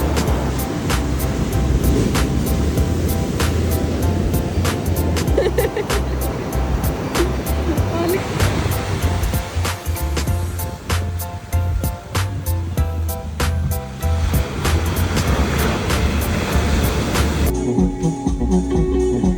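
Stormy sea surf pounds the coast at Tangalle or Mirissa in Sri Lanka, a continuous loud roar of breaking waves and rushing water that stays steady for almost the whole stretch before it suddenly cuts off.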